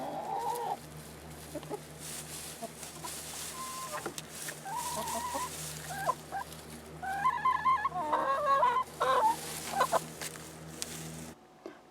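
Several chickens cluck and squawk in bursts over a steady low hum, the calls growing busier and louder toward the end before cutting off.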